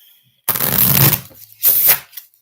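Playing cards are shuffled in two quick riffles, the first longer burst of fluttering, rattling card snaps followed by a shorter second one, close and crisp against a quiet room.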